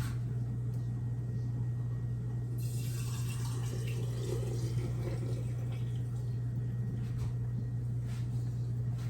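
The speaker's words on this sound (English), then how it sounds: "So I'm going to go ahead and drain this oil." Frying oil drains from a pan after cooking liver, giving a soft liquid pour and trickle over a steady kitchen hum, fairly faint.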